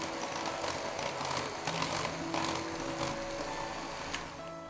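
An electric mixer beats carrot cake batter with washed raisins, giving a continuous close whirring drone with slight rhythmic pulsing throughout.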